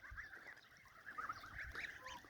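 Geese on a farm honking repeatedly, a run of raspy overlapping calls at moderate distance, quiet overall, with no talking.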